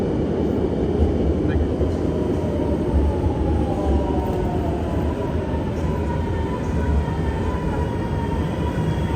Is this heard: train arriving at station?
yes